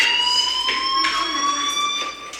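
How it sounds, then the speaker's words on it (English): A loud electronic fire alarm in the video game Life Is Strange sounds continuously, a steady high-pitched tone with pulsing bursts, with no talking. "do you hear that fire alarm?"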